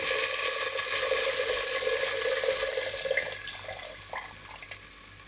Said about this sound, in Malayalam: ഇതൊന്ന് നന്നായിട്ട് തിളച്ച് വരട്ടെ